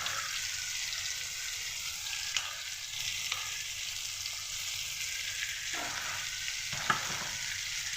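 Steady crackling sizzle of chicken masala with cashew paste frying in a pan, with a few brief scraping stirs; no voices, close and continuous.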